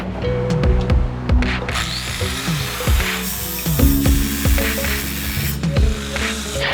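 Power tool cutting metal stock for a DIY recovery-tracks rack mount, with loud, close, harsh bursts that rise and fall in pitch as the blade bites and eases over several seconds.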